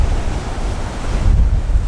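Ocean waves at Agnes Water main beach make a steady roar of surf heard from a lookout, mixed with heavy wind buffeting the microphone, with no voices.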